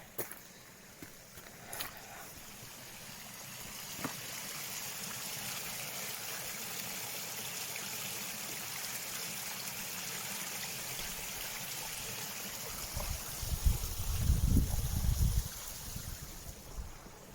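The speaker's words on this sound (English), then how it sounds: "Got a waterfall coming down this bit." Waterfall streaming down near Buttermere lake: a steady, broad rushing of water heard from a moderate distance, with a few sharp knocks and a louder low rumble near the end.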